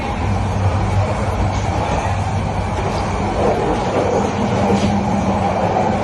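Steady rumble and rattle inside a passenger train cabin on a journey to Chittagong, a constant loud low drone with faint clicking of the wheels and no clear speech.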